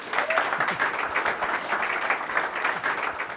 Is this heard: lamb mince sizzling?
no